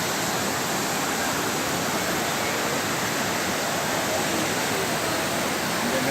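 A waterfall in Munnar, swollen after recent rain, roars as a steady, dense rush of falling water, loud and unbroken throughout with no voices.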